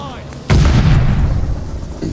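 An explosion in Call of Duty: Vanguard bursts with a sudden loud, close boom, then a rumbling low tail fades over about a second and a half, with a second smaller thump near the end.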